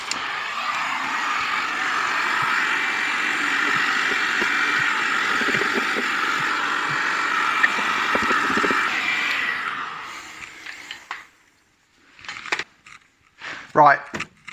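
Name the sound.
heat gun stripping a Vauxhall Nova wheel arch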